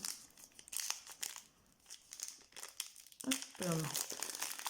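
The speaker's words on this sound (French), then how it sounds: "c'est les premiers boosters que j'ouvre" Crinkling and tearing of a Pokémon booster pack's foil wrapper as it is opened by hand, close and crisp, with a voice speaking softly in French between the rustles.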